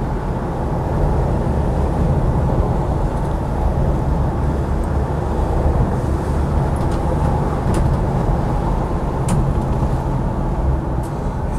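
A Land Rover Defender 90 TD5 diesel station wagon drives along with a constant broad engine and road roar, the turbo boosting steadily under a dense, even rumble without any talking.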